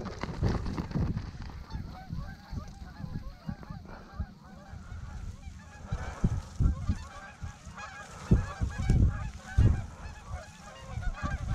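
A flock of geese honks repeatedly in irregular, overlapping calls during a snowy waterfowl hunt, the cries loud and near and carrying throughout over a steady outdoor background.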